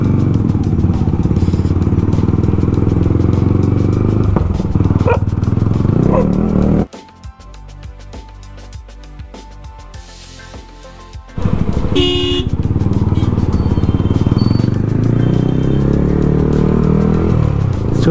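A loud Yamaha R15 V3 motorcycle with a loud aftermarket exhaust racing a Suzuki Gixxer, roaring engines and traffic noise that drop away briefly in the middle, then return strongly.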